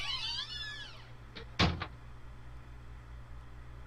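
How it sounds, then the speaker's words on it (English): A heavy fire door swings shut in a horror video game, a single loud thud with a short rattle, following a high wavering synthetic tone, then fading into a low steady hum. "I can hear the sound of the door closing behind me"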